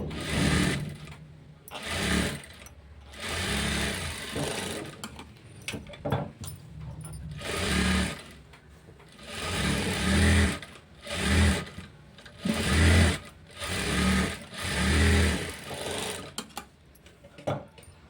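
A sewing machine stitches a blouse seam in repeated bursts of steady mechanical whirring, with brief pauses between runs, close and clear with no talking.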